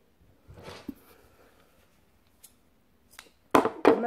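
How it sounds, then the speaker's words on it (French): Scissors snip yarn while mittens are made, a few quiet close snips followed by two sharper, louder cuts at the end. "Et là, je vais couper le fil."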